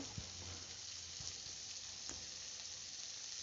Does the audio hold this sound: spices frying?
yes